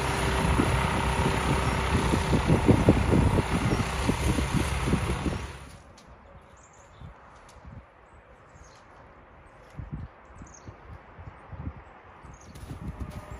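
A snowblower with a modified impeller runs loud and steady, churning and throwing snow for several seconds before cutting off abruptly, leaving quieter outdoor rustling and faint scattered knocks afterward.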